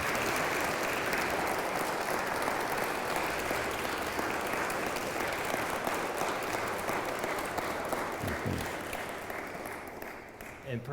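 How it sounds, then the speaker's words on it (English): An audience at a seminar on C.S. Lewis gives guest Earl Palmer a round of applause: steady, dense clapping filling the room for most of the stretch, then thinning and fading near the end. "let's give Earl a round of applause"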